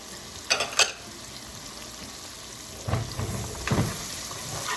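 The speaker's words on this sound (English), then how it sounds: "The frying of the green pepper smells really good." Green pepper and garlic sizzling in a pan with a steady crackling hiss, plus a few close stirring or scraping clatters; no talking.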